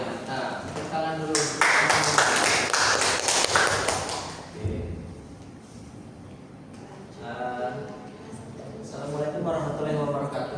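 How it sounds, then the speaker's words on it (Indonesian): Students in a morning micro-teaching class clap their hands together in a burst of dense, close clapping lasting a few seconds, then voices take over and talk continues. "tepuk tangan dulu"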